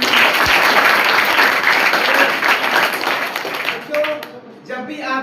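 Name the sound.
applause, children clapping for teacher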